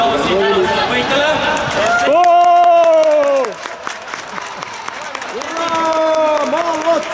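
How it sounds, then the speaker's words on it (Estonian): Crowd noise at a Sunday league football tournament prize-giving, with bursts of cheering and shouting children's voices over a broad wash of clapping and hubbub, rising and falling across several seconds. "Nüüd teeme väga-väga suure aplausi võitjale."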